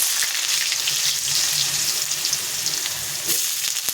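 Potatoes with a whole dried chili and five-spice seeds sizzling in hot oil, a dense steady crackle with a low bubbling undertone throughout, close and fairly loud, no talking.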